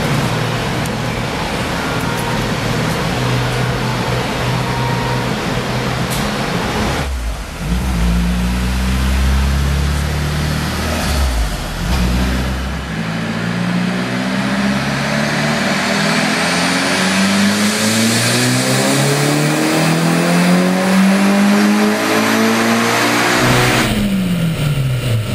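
A turbocharged F23 engine with pre-intercooler water-methanol injection pulls hard through the gears, loud and close, its revs climbing steeply and dropping at each shift, then surging up again as the boost builds.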